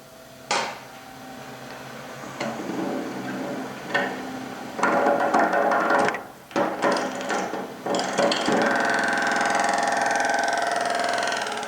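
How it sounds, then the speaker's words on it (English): A high-speed bowl gouge turns plastic off a wooden tool handle on a lathe, making loud scraping and rough cutting bursts against the hum of the spinning lathe, with short pauses between cuts. "we'll get this plastic off first, just with a normal high-speed bowl gouge"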